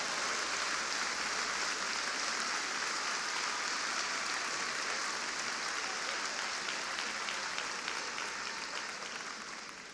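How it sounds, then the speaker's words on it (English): Dense, steady audience applause fills a large hall at the National Urban League's 2017 State of the Urban League Address, honouring young people in attendance; many hands clap continuously throughout and the applause tapers slightly at the end. "Let's give them a big round of applause, all of our young people who are here with us tonight."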